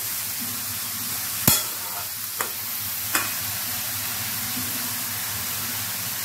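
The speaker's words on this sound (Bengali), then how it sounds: "ঝিঙেগুলো দিয়ে ভালো করে নাড়াচাড়া করে দিলাম।" Ridge gourd and potato crackle in a hot pan, a steady broadband sizzle running throughout with a few sharp clinks of a spoon against the metal as the vegetables are stirred.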